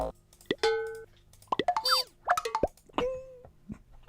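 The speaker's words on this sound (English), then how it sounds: "I really need a cartoon sound." Cartoon sound effects on a live stream: a quick run of bouncy plops, boings and pitch-sliding whistles, several short bursts in a row over about four seconds, fairly quiet, with no voices.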